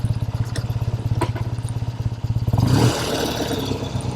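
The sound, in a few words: vintage Triumph 650 motorcycle engine running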